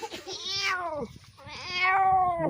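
A cat meows twice in close succession, each call drawn out and clear with rising then falling pitch, close by with no talk over it.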